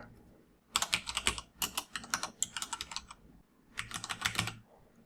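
Typing data into a C# and MySQL application form on a computer keyboard: close, crisp key clicks in rapid bursts with a short pause before a final flurry, no talking.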